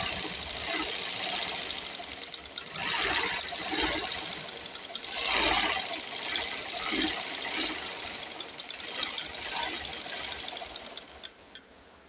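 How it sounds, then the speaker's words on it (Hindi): A sewing machine stitching the center seam of palazzo trousers, running in a steady fast mechanical whir with rhythmic needle clatter, close and continuous, briefly pausing and slowing before stopping at the end. "सबसे पहले हम इसका प्लाज़ो का सेंटर जोड़ लेते हैं दोनों तरफ से"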